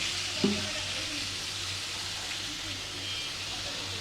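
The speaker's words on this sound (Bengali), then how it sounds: "আগে দিয়ে দিচ্ছি ডাল তেলে" Lentils (dal) fry in hot oil in a home kitchen, a steady broadband sizzle held throughout, with one brief clink of a utensil near the start and faint hum underneath.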